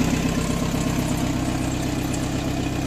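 A Mercedes-Benz W123 with an M115 engine converted from carburetor to EFI idles steadily and close, a continuous low rumble with an even pulsing beat and no talk.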